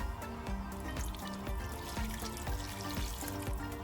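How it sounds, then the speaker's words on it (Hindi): Water poured into a cooking pot of beef yakhni for boiling, a soft trickling splash with faint metallic clinks underneath, quiet and close, with no voices. "यहाँ पे हम शामिल कर देंगे मज़ीद पानी और इसे बॉईल करने को रख देंगे।"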